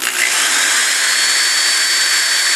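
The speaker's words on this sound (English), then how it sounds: "I'm going to go ahead and drill the last hole." A power drill whines steadily and loudly through the whole stretch, close up, with no pauses or talking.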